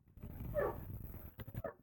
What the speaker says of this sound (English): I hear a dog potentially getting in trouble.